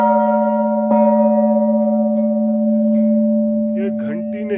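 A large temple bell at Jogeshwar Dham rings out with a loud metallic strike and a long sustained humming resonance, with brief voices and crowd sounds near the end.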